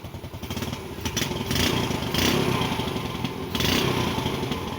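A Vega Force motorcycle with a full-wave stator conversion, its engine running steadily close by with a rough, clattering idle that stays loud throughout.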